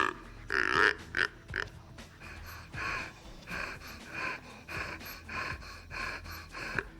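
A deer call mimicking a buck's heavy breathing while searching a scent trail: a loud opening rush of air, then repeated close, raspy huffs and snorty breaths in an uneven rhythm.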